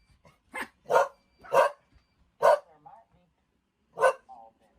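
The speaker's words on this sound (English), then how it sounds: "Wait, that's him barking" A single dog barks five times in short, loud, evenly spaced woofs close by, with brief pauses between barks and almost nothing else in the background.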